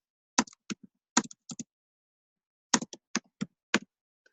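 Sparse clicks of keys on a computer keyboard, two quick bursts of typing separated by a silent pause, close and dry.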